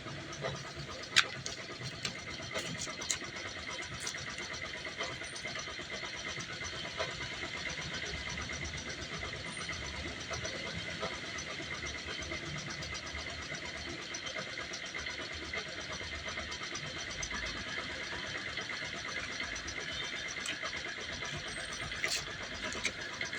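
A Yamaha YTX motorcycle engine runs steadily for the whole stretch, a constant mechanical hum with a faint idle rattle, fairly even in loudness and with no talk over it.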